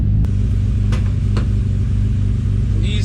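RB-engined Nissan 300ZX Z32 with a slight exhaust leak, heard up close as a loud, steady low engine rumble that holds nearly level, with a few sharp transient ticks and no talking.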